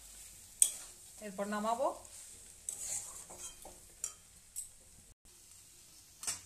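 Ivy gourd fries in a pan with light sizzling while a utensil scrapes and clinks against the metal in scattered, fairly quiet strokes, and someone speaks briefly over it.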